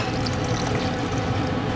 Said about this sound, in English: we'll go ahead and add the water